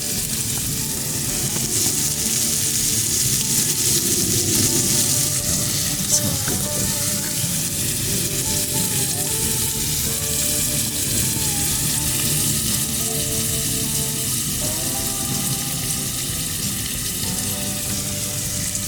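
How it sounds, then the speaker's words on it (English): Onion frying and caramelizing in a pan for Hungarian goulash, cooked outdoors on a trail without a campfire. A loud, steady, close sizzle runs unbroken throughout with no talking. "as the onion is caramelizing"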